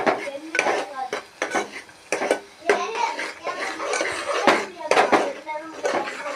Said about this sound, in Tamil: இதை ஒரு ரெண்டு நிமிஷம் வணக்கிக்கலாம் எண்ணெயிலே கொஞ்சம் தூரம் வணக்கிக்கலாம்